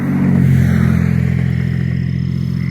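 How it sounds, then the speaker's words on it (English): A vehicle passes at moderate distance at night in Florida, its engine rumble swelling and then fading steadily, with no one speaking. "And of course, the occasional car that drives by too."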